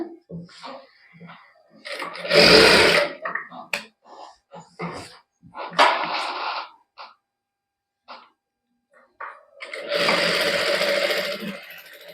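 A sewing machine stitches a palazzo, running in three short bursts of close, rapid mechanical whirring with quiet gaps and small handling noises between them.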